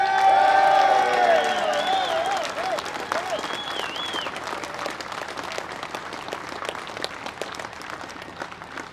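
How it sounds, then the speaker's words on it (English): A protest crowd at a farmers' protest in London bursts into sustained cheering and applause, with whoops and whistles rising over dense clapping early on, then settling into steady clapping that gradually fades. "I think we all need a massive cheer and a round of applause for the Met."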